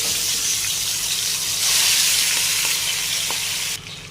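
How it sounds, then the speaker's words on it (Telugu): Pomfret fish fry in hot oil with a loud, close, steady hiss and crackle that swells midway, then drops abruptly near the end, with no talking. "నేను ఈరోజు సందువాలు ఫ్రై చేస్తున్నానండి"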